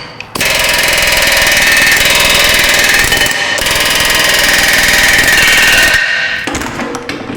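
An Astro pneumatic air hammer pounds on a Jeep Grand Cherokee's front suspension, a loud, rapid, continuous rattling burst lasting several seconds with a brief pause midway, then stopping abruptly.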